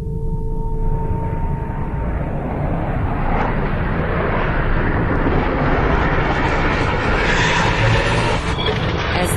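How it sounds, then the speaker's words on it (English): An FA-18 Hornet jet traps on an aircraft carrier deck and the arresting cable stretches toward breaking, heard as a loud, steady, rising roar of jet engines that swells and continues across the whole stretch. "As this single-seat FA-18 Hornet traps, the arresting cable stretches to the breaking point."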